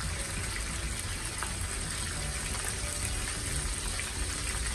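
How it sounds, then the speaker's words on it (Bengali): Chapila fish fry over medium heat in hot oil, a steady, even sizzle that runs continuously without pause at moderate loudness. "এখন আমি মিডিয়াম আঁচে মাছগুলোকে ভেজে নিব।"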